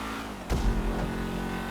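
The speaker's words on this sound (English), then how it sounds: "I really like the sound of these car engines." A stock car's V8 engine in GTA 5 holds a steady drone, then gives a quick rev surge about halfway through before settling back into a constant roar, heard alone.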